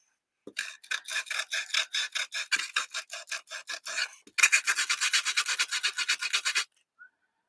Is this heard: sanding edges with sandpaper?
yes